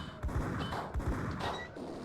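Gunshots in the 2001 Xbox game Max Payne, a few quick muffled thumping shots in rapid succession, fairly faint and low.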